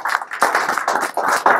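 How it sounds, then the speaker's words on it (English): Short burst of clapping from a small group at a classroom debate, dense and uneven, fairly loud and nearby, without talking. "Give them a big round of applause."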